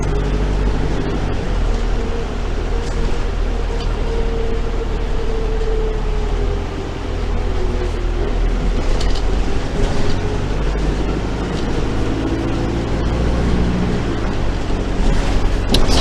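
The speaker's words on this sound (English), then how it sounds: "it's just going through the gears as normal, standard transmission" A steady Edinburgh bus engine drones loudly and close, its pitch rising and dropping as it shifts up through the gears of its standard transmission.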